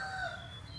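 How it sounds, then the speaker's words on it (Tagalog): A rooster crows at a farm stay in Pampanga, a single drawn-out cock-a-doodle-doo call at moderate distance, heard alone without talk over a low background hum. "Naririnig yung tilaok ng manok."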